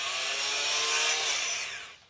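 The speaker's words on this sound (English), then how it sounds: "If you have an oscillating multi-tool, these things are the best." An oscillating multi-tool fitted with a wood fast-cut blade saws into a styrofoam cooler to cut a beehive entrance, a loud steady buzzing grind lasting about two seconds before it tapers off at the end.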